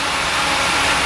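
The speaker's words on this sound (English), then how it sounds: "it's a fan back here. You can hear that going." Engine and radiator fan of a large snow machine running steadily, a loud, even broadband whoosh with a low engine drone underneath, no speech.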